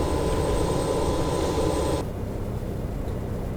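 Steady whine and rumble of a BAe 146 airliner's number 4 jet engine spooling up at start in X-Plane 11, a high tonal hum that cuts off partway, leaving a lower, quieter drone.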